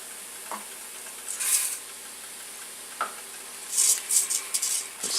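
Arborio rice stirred into softened onions in a pan on medium-low heat for wild mushroom risotto, a soft background sizzle broken by a few spoon scrapes and clinks against the pan.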